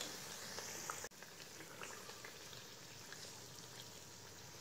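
Tomato puri deep-frying in hot oil, a steady, dense bubbling sizzle that runs throughout, with one brief sharp dip near the start, fairly quiet and even.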